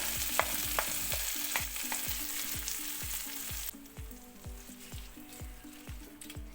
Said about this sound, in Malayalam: ഇപ്പം നമ്മുടെ വറവ് റെഡിയായി ഇനി നമുക്കിത് നമ്മുടെ പച്ചടിയിലേക്ക് ചേർത്ത് കൊടുക്കാം